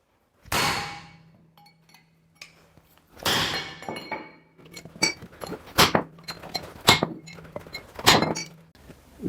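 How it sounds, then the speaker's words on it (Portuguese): A sledgehammer strikes a steel joint welded with a gasless MIG welder, the Euro 150, to test its strength. Loud metallic clanks ring out close by, with two heavy blows followed by a quicker series of ringing hits. "E agora vamos bater aqui com a marreta para ver se a solda fica forte"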